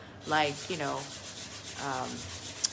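Sandpaper is rubbed across a chalk-painted surface in a few squeaky, drawn-out strokes, close and fairly clear, with a small tap at the end.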